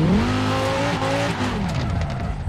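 Sports car engine in Forza Horizon 4, a Quadra from Cyberpunk 2077 drifting with an H-shifter, revving up and shifting, pitch climbing then settling with a throaty growl, loud and close with no speech.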